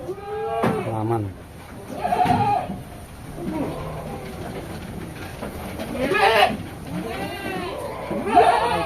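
Goats on a breeding goat farm bleat repeatedly at close range, several loud, wavering calls overlapping one another amid people talking in the background.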